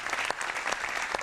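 Wrestling arena crowd clapping and cheering at a WWE Day 1 event, a continuous wash of applause with a few sharper bursts standing out, heard from a distance.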